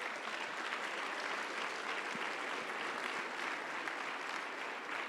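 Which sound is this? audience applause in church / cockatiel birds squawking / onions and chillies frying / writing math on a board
audience applause in church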